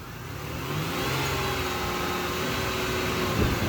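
Car engine held steady at about 2000 RPM while the air conditioning compressor cycles, a continuous close mid-pitched hum with a rise in revs early on and a slight shift near the end.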